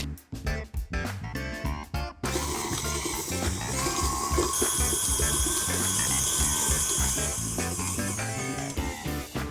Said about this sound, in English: I'm gonna go ahead and beat the butter and get it nice and fluffy